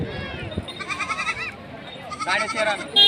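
Goats bleat in short wavering cries amid a busy livestock market in Gangakhed, India, with people talking nearby and more bleats rising near the end.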